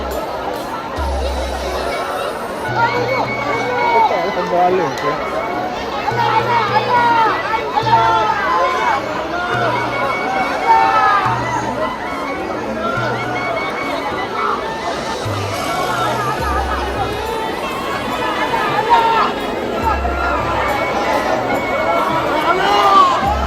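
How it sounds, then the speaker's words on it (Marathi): A whole village crowd fishing together in a pond fills the air with continuous loud chatter, shouts and cheering, children's voices among them, as one dense hubbub. "जेव्हा पूर्ण गाव उतरतं ना तल्ल्यात तेव्हा आयो जल्लोष असत"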